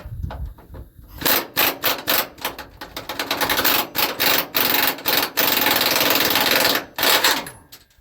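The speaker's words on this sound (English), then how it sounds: "I told you that Harbor Freight Earthquake's vicious." A Harbor Freight Earthquake air impact wrench hammers loudly in repeated rattling bursts during general car maintenance, with a short quiet start, brief pauses between runs and one sustained stretch near the end.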